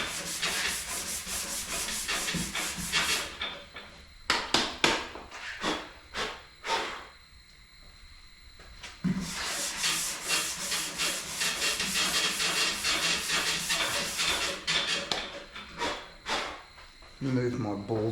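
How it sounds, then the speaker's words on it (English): Hand sanding body filler on the fender of a Ford XA Falcon GT: repeated rasping back-and-forth strokes, close and loud, with a brief quieter pause midway before the scraping resumes. "Sand up to the line, not over."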